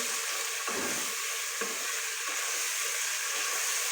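Chopped onions and tomatoes fry in a pan for aloo bhindi, giving a close, continuous, dense sizzle with occasional soft stirring bumps and no talking.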